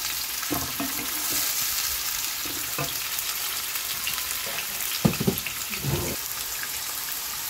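Fresh flat bean seeds fry in a pan alongside aubergine and bay leaves, a steady sizzling hiss broken by scattered spatters and stirring scrapes, fairly quiet and close with no talking.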